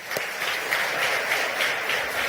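A church congregation applauds together in a sustained, even wash of clapping that holds steady throughout at moderate volume, with no voices over it.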